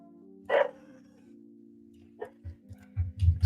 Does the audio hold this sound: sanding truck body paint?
no